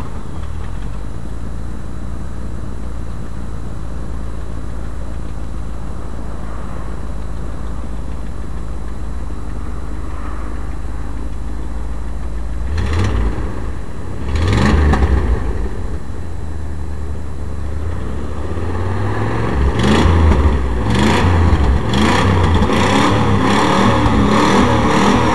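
A 1983 Chevy truck sits quietly at first under a low rumble, then its engine cranks and catches near the midpoint and is revved in several sharp bursts, each swelling loudly before dropping back.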